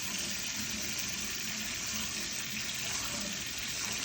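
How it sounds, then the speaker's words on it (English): Steady running tap water splashing into a sink over rinsed canned chickpeas, a continuous even rush with no pauses. "Rinse."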